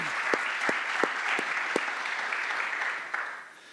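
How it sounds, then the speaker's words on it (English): A room full of people at a military retirement ceremony clapping steadily, dense and sustained, with a few sharper claps standing out before it tapers off near the end. "So please join me in giving the Buffalo District team a round of applause."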